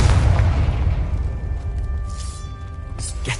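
Confringo fire spell detonating in Hogwarts Legacy on PS5: a loud, rumbling explosion with heavy low boom that decays over a few seconds, followed by crackling debris.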